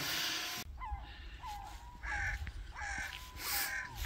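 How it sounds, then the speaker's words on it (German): Gulls calling while standing on frozen-over water, several clipped cries repeating at intervals over a quiet, breezy background, fairly distant. "Ja, und hier stehen heute die Möwen auf dem Wasser."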